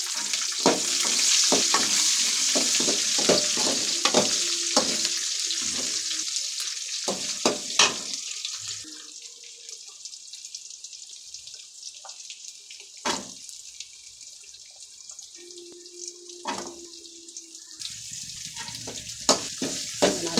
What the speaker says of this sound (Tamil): நல்லா வதக்கலாங்க